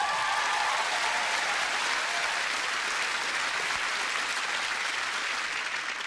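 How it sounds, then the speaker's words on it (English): A stand-up comedy crowd applauds and cheers as comedian Silky is welcomed onstage, a steady, full round of clapping that fades only slightly toward the close. "Put your hands together, scream applaud, go mad, and welcome on the stage"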